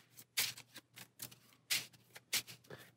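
A deck of game cards being shuffled during solo play: quiet, close riffling bursts in irregular short rustles, with low hum between them.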